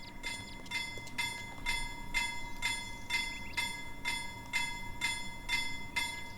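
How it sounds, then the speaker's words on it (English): A train passes in the farming video game Farmer's Dynasty. Regular ringing pulses, like a level-crossing bell, repeat about twice a second over a faint rolling rumble, fairly quiet throughout. "Here comes the train."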